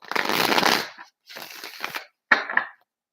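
A tarot card deck (the dream deck) being shuffled close up in three quick bursts of riffling and slapping cards, each ending abruptly, with no voices.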